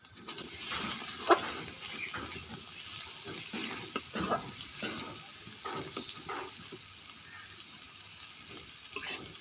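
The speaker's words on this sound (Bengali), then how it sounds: "মশলাটাকে ভালোভাবে কষিয়ে ছেড়ে দেবো আমি টমেটো কুচি" Spice paste fries with chopped tomatoes in a pan, a soft wet sizzle at low level broken by intermittent stirring scrapes and clinks, close and quiet, with no talk.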